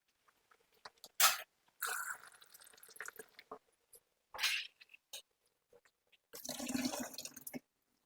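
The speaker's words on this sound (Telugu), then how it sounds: "ఇది ఇలా బకెట్లో పోసేస్తున్నానండి" Homemade fruit-based liquid fertilizer is poured into a bucket in a few separate sloshing bursts and drips, quiet and close, with silence between the pours.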